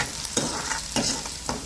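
Curry leaves sizzle and crackle in hot oil over a high gas flame for a village-style puri bhaji, a steady close frying hiss with bright bursts of spatter repeating roughly every half second.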